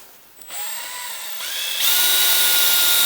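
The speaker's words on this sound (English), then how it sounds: "So I'm gonna drill a hole around here with this bit." A power drill bores a hole through a van floor during a diesel heater installation. Its motor whine starts, rises in pitch and speeds up as the bit bites in, and stays loud and close.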